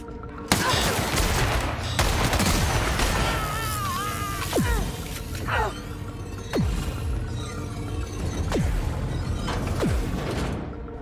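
Player weapon gunfire in The Outer Worlds comes as rapid, loud, close volleys mixed with sharp cracks and whooshing mechanical effects during an intense firefight, with no talk.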